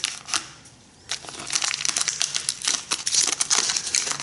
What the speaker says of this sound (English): cut the bag open